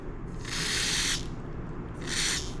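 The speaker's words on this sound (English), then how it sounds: "I'm gonna spray a little carburetor cleaner down around the needle here." Carburetor cleaner sprays from an aerosol can onto a pressure washer carburetor in two hissing bursts, the first longer than the second, close by with no talk.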